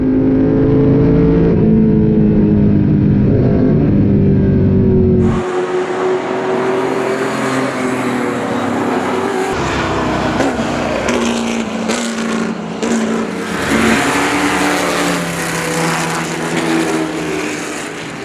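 A Ford GT40 race car laps at Spa during a six-hour race, its engine note rising and falling through gear changes, loud and close, shifting from a steady drone to harsher, higher revving passages.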